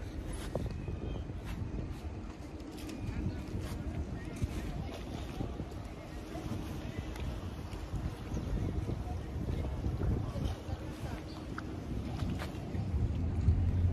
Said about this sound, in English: Got a boat coming down here.